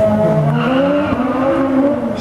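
A 680 HP Stage 2 Nissan GT-R and a 600 HP VAZ 2121 Lada Niva launch together in a drag race, engines roaring loudly and climbing in pitch through the gears, with some tire squeal up close.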